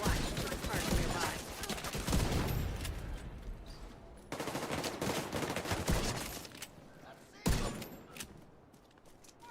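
Gunfire from a weapon in the video game Division 2 rattles out in rapid, loud bursts. The volleys are dense, with short pauses between strings of shots, and they dominate the whole clip.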